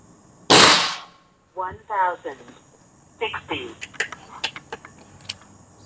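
Black Ant air gun fired during an FPS stability test, a sharp loud crack near the start followed by clicks and rattling mechanical handling noises, with someone talking briefly in between.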